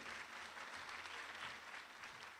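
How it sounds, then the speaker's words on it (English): A crowd at a STEM project launch event applauding steadily, a dense wash of clapping hands sustained throughout without a break. "Another round of applause, please,"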